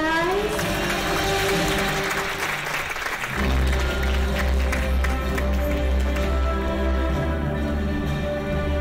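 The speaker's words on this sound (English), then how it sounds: "Give applause, guys!" Applause from an audience at a youth summit in Istanbul swells into dense, sustained clapping, with music rising underneath partway through.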